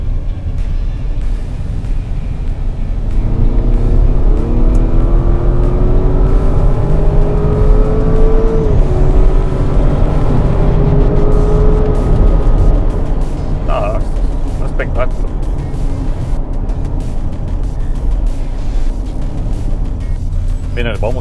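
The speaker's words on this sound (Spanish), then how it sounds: "les voy a mostrar nuevamente cómo suena la Porsche Cayenne" A 2024 Porsche Cayenne engine revs in Sport Plus mode, a loud rumbling rise and fall with pitch sweeps as it accelerates and shifts, followed by a steadier drone with brief clicks near the end.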